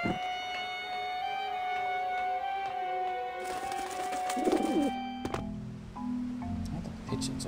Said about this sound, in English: The pigeons are gone.